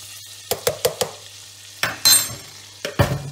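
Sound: butter and flour roux (Einbrenn) cooking in pot

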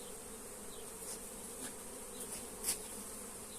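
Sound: honey bees buzzing while frames are shaken off

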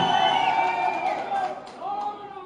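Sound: crowd cheering at a political rally

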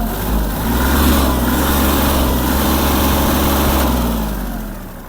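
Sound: Kubota GL-280 three-cylinder diesel mini tractor engine revving

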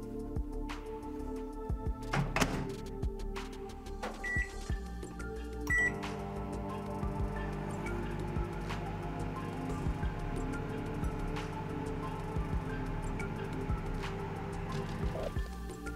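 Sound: microwave oven heating homemade carp boilies

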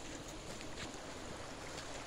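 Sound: river flowing below the waterfall

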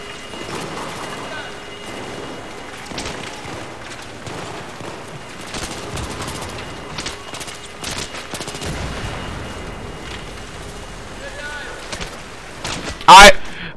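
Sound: gunfire from Battlefield 3 video game

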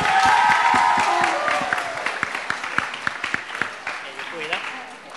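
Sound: audience applause

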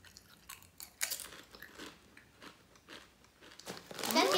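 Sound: crunching Trader Joe's chips

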